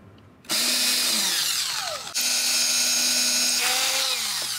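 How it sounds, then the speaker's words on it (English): A power drill whirs at high speed, stops briefly, then revs again, its pitch dipping as it bites into material; close and loud. "in this case it's easier to mark it with the drill"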